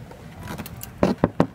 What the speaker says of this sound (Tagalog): So pag pinasok niyo yung susi doon, and then pag pinul niyo to pababa, ma-unlock siya.